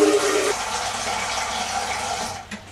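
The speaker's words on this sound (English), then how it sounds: "The first thing we are going to do is actually fill the pot with some water." Tap water runs into a pot, a continuous splashing gush that fades toward the end.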